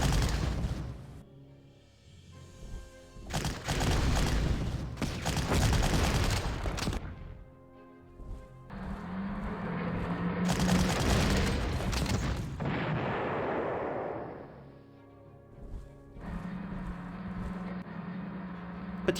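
Artillery fire in the Panzer Corps wargame, heavy rumbling blasts and booming salvos in long, rolling bursts with loud swells and short lulls between them, no voices over it.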